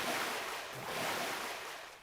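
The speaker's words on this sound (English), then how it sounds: "as soon as I run into this bunch of water here, that you'll actually hear splashing footsteps" Water splashing from footsteps running through a shallow pool in an RPG built with the AnyRPG engine. The noisy wash of splashes continues steadily for about two seconds, moderately loud, with no voices.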